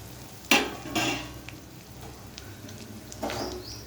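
Bay leaves, dried chillies and whole garam masala spluttering in hot oil, a soft steady sizzle with a few sharp clicks and scrapes from a spoon in the pan, close and fairly quiet.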